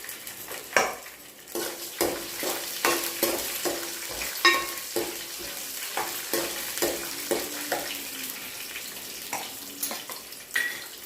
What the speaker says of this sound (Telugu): ఇవి కూడా నూనెలో వేగనివ్వాలి పచ్చిమిర్చి ఎండుమిర్చి కూడా వేసుకొని కలుపుకోవాలి